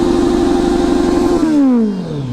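A motorcycle with an overly loud exhaust idles at a steady, droning pitch, then its note falls away as the engine winds down, close and loud with no voices.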